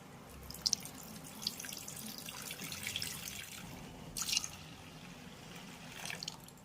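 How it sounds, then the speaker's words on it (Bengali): Liquid milk pours into an apple dessert mixture, a steady soft trickling and splashing with a few brighter splashes, close and fairly quiet, with no talking. "এবার আমি এর ভিতরে অ্যাড করব দুই কাপ তরল দুধ"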